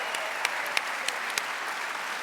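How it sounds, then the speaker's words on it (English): An audience at a summit event applauds after a simultaneous chess exhibition game, a dense, steady round of clapping with a few sharper individual claps standing out, no talking. "Round of applause."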